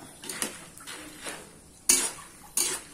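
Peanuts being stirred in a pan for peanut butter, a few scattered scraping strokes and sharp metallic clinks of a utensil against the pan, close and moderately loud, no talking.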